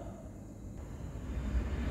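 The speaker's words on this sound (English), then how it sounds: "Fucking train." A passing train rumbles outside a machine shop where a lathe tool post is being made, a low broadband roar that swells gradually over a couple of seconds.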